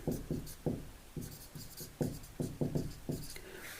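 Chalk or marker writing on a classroom board during a chemistry lesson on organic tests: a run of short, scratchy strokes in quick uneven bursts, fairly close and with no talk over them.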